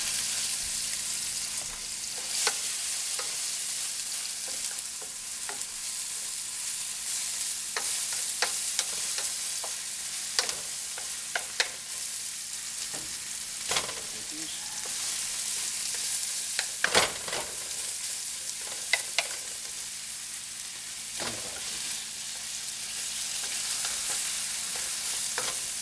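Four sirloin steaks pan frying alongside onions give a continuous close sizzle and crackle, with scattered pops and occasional scraping stirs throughout.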